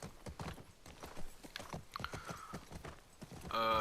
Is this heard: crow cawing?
no